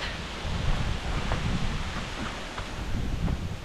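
Strong wind buffets the microphone at an outdoor spot where tents are pitched, a steady, loud roaring rush with gusts swelling and easing throughout, no voices.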